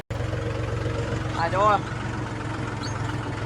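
A tractor engine runs nearby with a low, steady throbbing chug throughout, while a man briefly exclaims over it.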